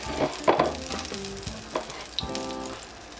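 Garlic butter sizzles and spits on a prime strip steak in a hot pan, with crackling bursts and a few sharp pops over a steady frying hiss.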